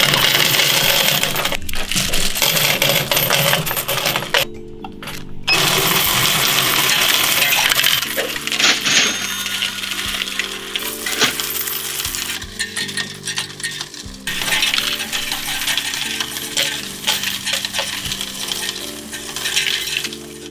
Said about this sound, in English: we've got our trusty euro machine. We're going to run those coins through here.